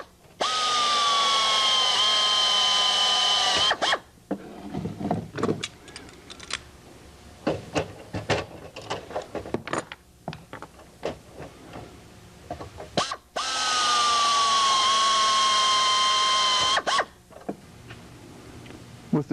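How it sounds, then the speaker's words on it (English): A power drill whines loudly for a few seconds while drilling holes in pre-punched aircraft empennage parts for a Van's RV-6, then scattered clicks and handling noises, then another long drilling burst. "then I can finish drilling the rest of the holes."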